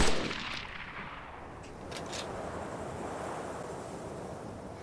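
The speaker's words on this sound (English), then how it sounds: "Oh, someone's sniping at us." A single sniper rifle shot in ARMA 2, a sharp loud crack at the start that decays into a long rumbling tail over wind-like ambient noise.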